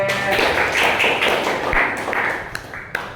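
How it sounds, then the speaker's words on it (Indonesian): Students in a classroom clap for a group, a few seconds of close, loud, uneven hand claps with scattered sharper taps toward the end. "Silakan tepuk tangan buat kelompok B."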